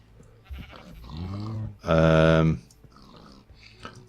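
A sheep in the TerraFirmaCraft Minecraft game, a single loud wavering bleat near the middle, with someone talking quietly around it.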